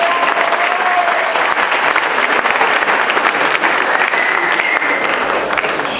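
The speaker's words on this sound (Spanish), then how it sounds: "Fuerte los aplausos." Strong audience applause at a university forum on violence, many hands clapping in a dense, loud, continuous patter that runs unbroken for several seconds.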